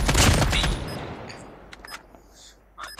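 Gunfire in the Call of Duty Mobile game on the new Terminal map, a loud burst of rapid shots up close at the start that fades out, followed by a few faint scattered pops and clicks.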